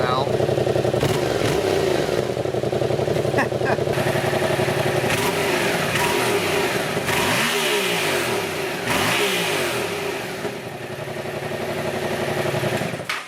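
Yamaha FZ-07 motorcycle with a modified, leaking exhaust revs repeatedly, loud and close, with rising and falling engine sweeps and someone talking over it.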